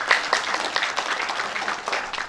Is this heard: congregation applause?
yes